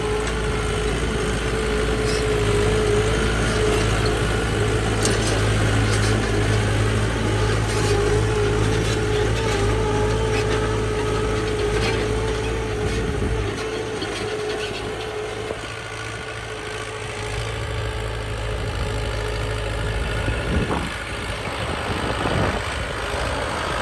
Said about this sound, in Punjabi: ਤੇ ਟਰੈਕਟਰ ਜਨਾਬ ਸਾਊਂਡ ਚੈੱਕ ਕਰੋ